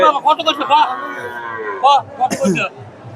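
Cows and calves, local and Sahiwal breeds, at a cattle market, a few short close moos and bellows over a babbling crowd, with people talking nearby.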